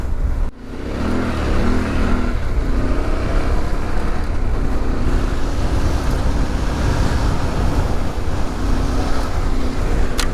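A Yamaha T7 motorcycle is ridden on a trip through Cape York Peninsula, its engine a loud, steady drone mixed with heavy wind rush, holding constant for the whole stretch after a brief dip near the start.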